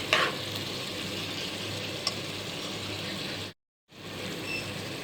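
Onions, green chilies and ginger-garlic paste sizzle and fry in a pan, with a steady close crackle and an occasional stir, for potato curry; the sound cuts out briefly near the end before resuming.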